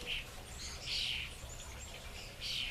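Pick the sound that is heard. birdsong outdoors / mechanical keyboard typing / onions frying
birdsong outdoors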